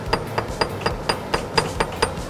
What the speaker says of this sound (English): Today we're gonna hammer it.